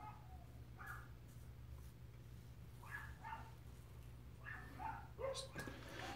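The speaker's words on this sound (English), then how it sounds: "Neighbor's dogs." Neighboring dogs bark faintly in the distance, a few scattered yips over a low steady hum in a quiet room.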